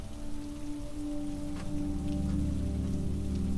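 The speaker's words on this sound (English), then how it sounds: "The rain touched her hair, light and persistent." Steady light rain patters continuously over a low background hum, with no voices.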